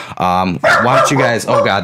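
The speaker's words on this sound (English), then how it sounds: "that's my dog barking" A pet dog barking indoors, a few sharp, loud barks close by, mixed with someone talking over them.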